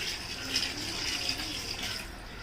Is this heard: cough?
no